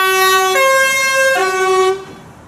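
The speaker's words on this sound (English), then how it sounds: "Scania from Northampton. With the two-tone horns." Scania truck in Northampton livery sounding its two-tone horns, loud and close: a sustained steady blare that steps between two pitches, then cuts off and leaves a faint tail.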